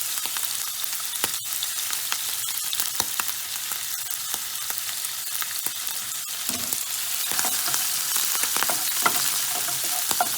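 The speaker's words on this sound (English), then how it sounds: "Fry up your calamari well so you avoid a lot of the splattering." Calamari tentacles fry in a pan with a constant dense sizzle and crackle, dotted with sharp spattering pops, loud and close throughout.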